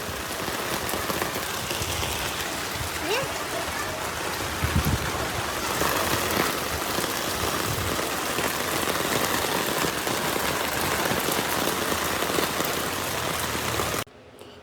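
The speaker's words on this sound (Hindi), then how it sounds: "तो बहुत सारी बारिश आ रही थी" Heavy rain pouring down in a dense, unbroken hiss with scattered drops pattering on surfaces, loud and constant until it cuts off abruptly near the end.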